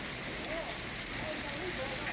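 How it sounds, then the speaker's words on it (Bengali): Hailstones fall in a sudden desert hailstorm in Saudi Arabia, a dense, steady patter with no breaks that stays fairly even and moderately loud throughout. "মরুর বুকে হঠাৎ শিলাবৃষ্টি।"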